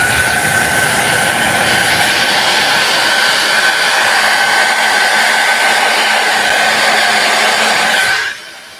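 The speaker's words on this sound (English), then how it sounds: "and take the blow dryer" A blow dryer runs at full blast, drying splattered paint in a one-stroke flower painting session, with a loud steady whooshing hum and a high whine, then cuts off abruptly near the end.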